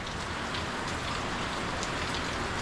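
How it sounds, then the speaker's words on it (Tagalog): Heavy typhoon rain pours steadily onto a roof deck, a dense, unbroken hiss of drops on hard surfaces, loud and close for the whole stretch with no voices. "Mukhang magtatagal itong ulan na to. Bagyo po ito"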